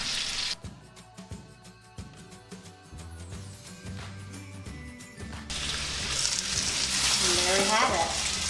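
Burgers sizzling and frying steadily in a pan, a continuous crackling hiss that swells louder toward the end, with clinks and rhythmic kitchen clatter early on.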